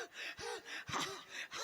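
A comic performer at a village Ramlila stage show pants in short, breathy gasps, about four rapid bursts in quick succession, close and fairly loud with no speech over them.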